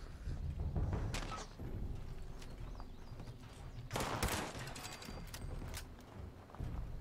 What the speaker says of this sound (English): Pipe bolt action pistol.